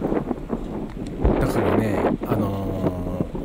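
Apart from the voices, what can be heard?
strong wind on microphone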